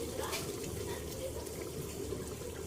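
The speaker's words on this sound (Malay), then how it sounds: "Jadi kita masukkan susu, masukkan semua sampai habis" A can of milk poured into a pot of rice being cooked, a soft steady liquid pour and splash at low level throughout.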